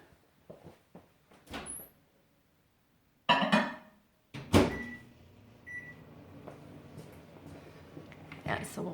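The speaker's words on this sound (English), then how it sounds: "Okay, back in the microwave." Microwave oven running after being loaded with solid sugar scrub, a low steady hum under door and handling clatters, with someone talking intermittently.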